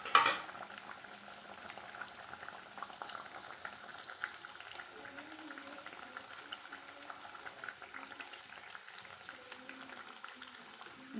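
Thattai rice crackers deep frying in hot oil, a quiet continuous bubbling hiss with a brief clatter at the start, no voices.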